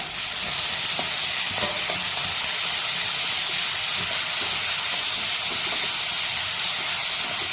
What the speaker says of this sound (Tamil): இதுலேயே நம்ம கட் பண்ணி வச்சுருந்த வெங்காயத்தையும் சேர்த்துட்டு நல்லா வதக்கிக்கலாம்